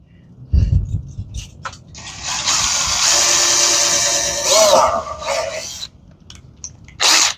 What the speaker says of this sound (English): Let me get this drilled.